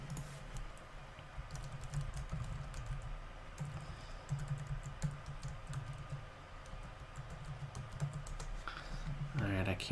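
Keys on a computer keyboard clatter in steady, fast bursts of close, crisp clicks during an online chess tournament, with low background murmur throughout.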